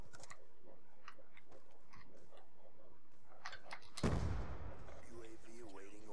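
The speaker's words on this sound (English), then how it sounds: "that is a shotgun" A single shotgun blast in Call of Duty Black Ops 2, a sharp, loud, near report with a decaying tail, heard after a stretch of quieter ticking game sounds and a voice talking.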